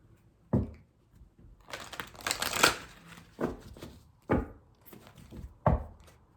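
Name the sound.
shuffling cards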